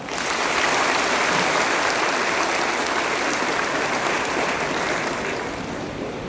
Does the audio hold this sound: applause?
yes